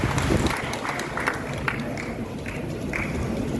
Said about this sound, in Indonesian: Tepuk tangan untuk Mas Wali.